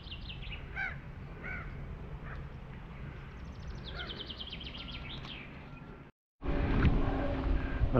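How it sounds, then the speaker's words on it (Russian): Seagulls calling over water in a park while catching fish, with repeated harsh cries against steady outdoor background noise, a brief dropout near the end followed by louder ambient rumble. "Чайки ловят рыбку."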